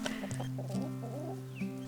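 Backyard homestead chickens cluck and murmur continuously close by, with several low, overlapping calls and a few brief sharper notes.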